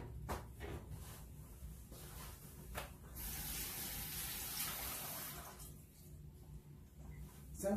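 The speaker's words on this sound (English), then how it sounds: "let me wash my hands" Running tap water splashes steadily as hands are washed at a kitchen sink after handling sausage appetizer mix, a close, continuous spray that swells louder midway with no talking.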